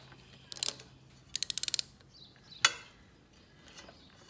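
An engine turned clockwise by hand against its valve springs gives a few sharp mechanical clicks and a quick ratcheting run of ticks, then one louder snap as it passes the spring, with faint creaks between.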